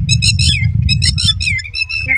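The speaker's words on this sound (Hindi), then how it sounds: "ये इस चिड़िया ने इतना शोर मचाया है" A bird near its nest on a vegetable farm squawks noisily in loud, close, repeated harsh calls, one after another without pause.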